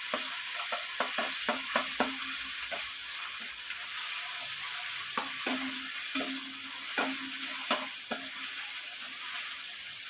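Ginger paste frying in hot oil for a paneer masala curry, a steady sizzle broken by repeated scraping knocks of a spoon stirring the pan, with no voices.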